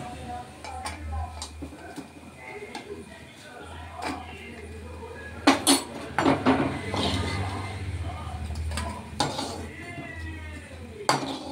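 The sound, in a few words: fried pieces being transferred onto a plate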